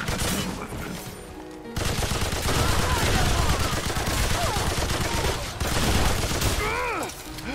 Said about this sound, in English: I did shoot it!